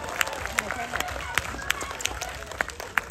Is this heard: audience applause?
yes